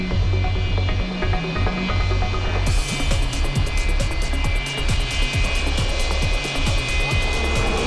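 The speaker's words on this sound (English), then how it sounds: "The aircraft just landed." A large aircraft sounds after landing during a record transport of very long wind turbine blades: a loud, steady roar of engines fills the whole stretch, with broadband rumble and a high whine added partway through.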